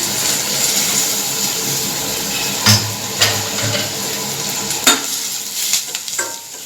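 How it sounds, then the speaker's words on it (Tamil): Onions sautéing in hot oil for egg masala give a steady, close sizzle, broken by several sharp spoon-against-pan stirring knocks, with no talking. "எண்ணெய் ஊற்றிக்கலாம், வெங்காயம் போட்டுக்கலாம்"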